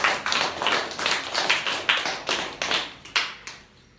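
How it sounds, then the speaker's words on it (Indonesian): A small audience at an anti-corruption outreach session claps for a student, with distinct, sharp claps in a quick steady rhythm that thin out and fade near the end. "Beri tepuk tangan untuk saudari Salsadila."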